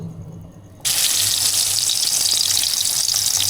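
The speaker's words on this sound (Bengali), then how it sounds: "কড়াটা গরম হোক, তেলটা আর একটু দিই, অনেকগুলো মাছ আছে" Fish hitting hot oil in a wok set off a sudden loud sizzle after a quiet start. The sizzle then holds as a dense, steady hiss to the end.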